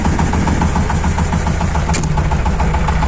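A Shifeng 240 mini-tractor's small diesel engine idles at around 800 rpm, a loud, close, steady rhythmic chugging with a faint vibrating rattle and one brief metallic tick.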